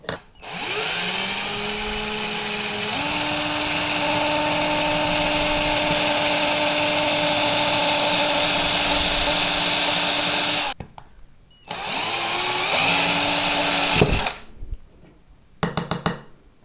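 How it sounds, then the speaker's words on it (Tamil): A Buildskill cordless drill with a small bit spins up and whines steadily for about ten seconds drilling plastic, stops, then runs again in shorter bursts, close and loud. "ஸோ உங்களுக்கு பிளாஸ்டிக்கில் நீட்டாக ட்ரில் பண்ணியிருக்கு."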